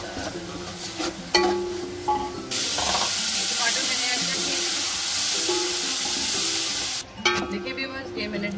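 Spices stirred into hot oil in a cooking pan for chana pulao, a loud sustained hiss and sizzle with scraping strokes at either end.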